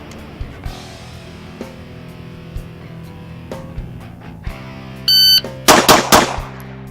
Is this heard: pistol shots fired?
yes